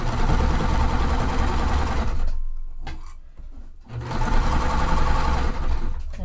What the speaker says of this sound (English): And I'm going to sew a little bit more and just double check that.